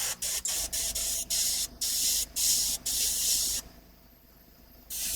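Thin, watery paint, about half water, sprays from an airbrush-style sprayer in a series of short hissing bursts with brief gaps, then one longer sustained spray after a pause, close and steady.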